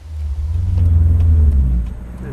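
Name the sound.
turbo V8 1984 XE Falcon wagon driving off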